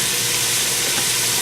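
Minced garlic goes into onions already frying in a pan for a chicken and kale casserole, a loud, close, continuous sizzle with a broad, even hiss and no talking.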